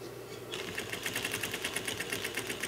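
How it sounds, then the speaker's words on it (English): A sewing machine stitches fabric for an upholstered couch skirt, its needle chattering in a fast, steady mechanical rhythm up close after a brief start, with no talking. "We'll move over to the sewing machine."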